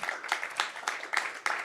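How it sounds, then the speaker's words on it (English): An audience at a Bitcoin hackathon's opening gives a round of applause for sponsors and partners, a dense wash of many hands clapping that swells in a few loud surges. "let's just give another round of applause for our"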